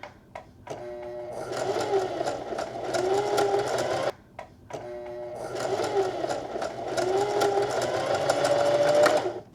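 A sewing machine stitches a denim heart applique, running in two bursts of rapid mechanical whirring separated by a brief pause, with faint clicks at the starts and stops.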